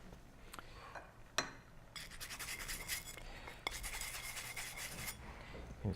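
A stiff brush scrubs inside the portafilter of a La Marzocco Linea Mini espresso machine, working along its grooves. The rasping strokes are close and fairly steady, with a few sharp knocks.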